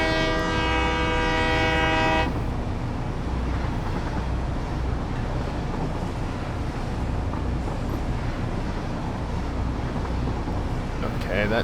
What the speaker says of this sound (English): Okay, that train's going that way.